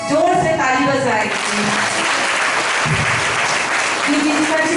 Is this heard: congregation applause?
yes